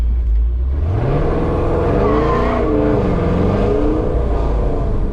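A car with a 5.7 Hemi V8 accelerates on a highway, the loud engine note rising steadily in pitch through a gear as speed builds, heard from inside with constant road rumble.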